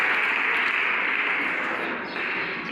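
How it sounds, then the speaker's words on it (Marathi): Sustained applause from a student audience at a rural farming programme in Shirasgaon, Nashik, a dense steady wash of clapping that stays loud and even throughout. "विद्यार्थ्यांनो साहेबांसाठी टाळ्या वाजवा सर्वांनी जोरदार"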